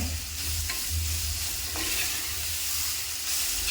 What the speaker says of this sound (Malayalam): ഈ സവാള ഒന്ന് മൂക്കാൻ വേണ്ടി ഇടുന്നത് അത് കിടന്ന് നന്നായിട്ട് മൂക്കട്ടെ